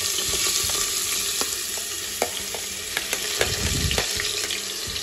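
Finely chopped onion hits hot oil and fries with a loud, steady sizzle, while a spoon clicks and scrapes repeatedly against the pan as the onions are stirred.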